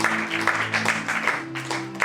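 A church congregation claps during a worship service, a steady rhythmic burst of hands that repeats throughout over sustained held musical tones, fairly loud and close.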